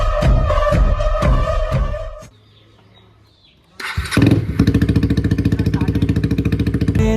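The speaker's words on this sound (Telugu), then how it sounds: "3 months నుంచి పక్కన పెట్టిన డ్యూక్ 250 స్టార్ట్ అయితే లేదు, చూసాం" A KTM Duke 250 motorcycle left unused for three months cranks roughly, goes quiet briefly, then fires up and settles into a loud, steady, close idle.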